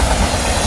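A southbound stack freight train with three engines led by a GEVO C45AC passes close on track 1 of the Salt Lake subdivision in Clearfield, Utah, a loud, steady rumble and wheel clatter filling the moment without talk.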